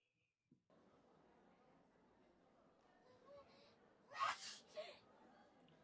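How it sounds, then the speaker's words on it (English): A girl sneezes in the horror video game Corpse Party: a sharp burst followed by a quick second sneeze near the end, over soft background hum, with a voice briefly present. "let out a sudden sneeze."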